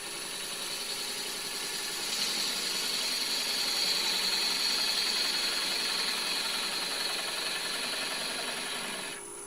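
A wood lathe turning slowly at 600 RPM while a gouge cuts the spinning wood, a continuous dry rasping hiss over a low motor hum that swells and then eases off near the end.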